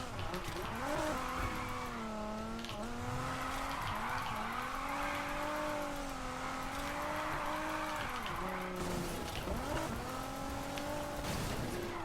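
A car in the racing game Need For Speed Heat drifts and skids, its tires squealing in long wavering tones over a continuous engine drone, sliding repeatedly for several seconds without any talk.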